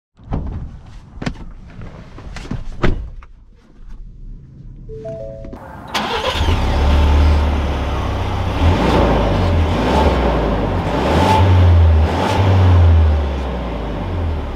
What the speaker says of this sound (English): We're setting off here in the Ranger Tremor